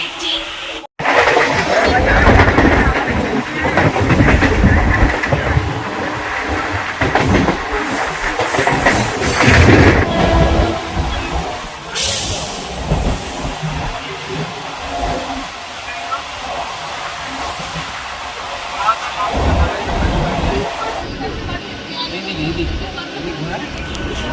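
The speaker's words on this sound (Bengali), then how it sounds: "এখান থেকে লোকাল ট্রেন করে আমরা যাবো ফুলেশ্বর" A local train to Phuleswar station rumbles along the rails with a steady rolling clatter and rattle throughout, while people talk over the noise.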